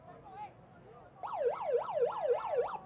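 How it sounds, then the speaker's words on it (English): A wailing final siren at a rugby sevens match rises and falls repeatedly, loud and continuous, after a brief stretch of quieter background murmur and a faint voice. "As we hear the final siren,"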